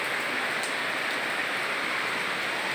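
Steady rain falling outdoors in a yard among trees, an even soft hiss throughout with no other sounds, moderately close and fairly quiet.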